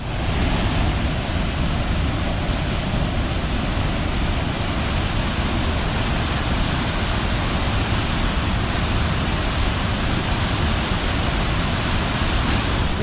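High Force waterfall on the River Tees roars without a break, a dense, loud, full-spectrum rush of falling water heard close up with no pauses or other sounds.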